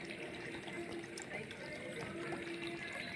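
Water gushes steadily from a motor-pumped outlet near a Khodiyar Mataji temple in Morshupra, a faint continuous rushing with a low mechanical hum running under it.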